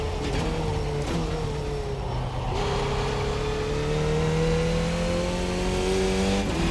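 A Formula 2000 race car engine in iRacing drones steadily and loud, revving through rising and falling pitch sweeps with brief gear-change dips, alone without voices.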